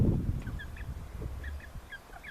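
Orloff chicken pullets forage outdoors, giving soft, short clucks and chirps, near and fairly quiet, over a low rumble of wind and handling noise.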